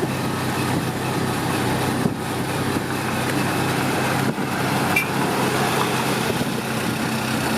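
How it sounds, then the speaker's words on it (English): Heavy road traffic on a Philippine road as a bus approaches and passes, a continuous broad engine and tire roar that stays loud and steady throughout, with no talk. "Here comes the freaking bus."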